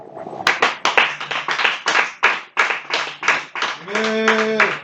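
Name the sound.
congregation clapping to acclaim Jesus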